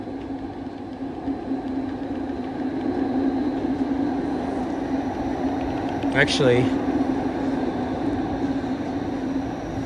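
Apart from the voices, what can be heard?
subway train pulling into station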